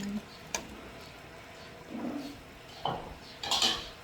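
Utensil scraping and clinking against a metal cooking pot as a pork-rib and tomato stew is stirred, a few scattered knocks and scrapes with quiet gaps between them.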